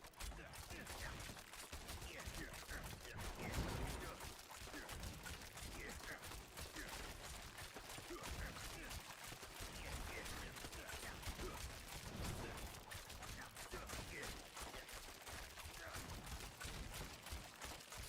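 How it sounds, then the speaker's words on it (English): Dense, rapid bursts of explosions and combat effects from the Diablo 4 action game crackle continuously and evenly throughout, like sustained gunfire, with someone talking quietly under them. "Now we should get explosions all the time."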